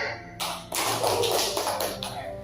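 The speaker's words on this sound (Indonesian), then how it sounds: "Tepuk tangan." Young kindergarten children clap their hands together in a classroom, a busy, uneven burst of many small claps that starts abruptly and keeps going, fairly close.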